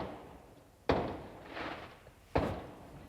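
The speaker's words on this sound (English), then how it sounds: "The reason you can hear fireworks, by the way, is because it's New Year's Eve right now." New Year's Eve fireworks going off outside, two sharp distant bangs with a softer rumbling burst between them and a brief crack at the end, heard alone with no talk.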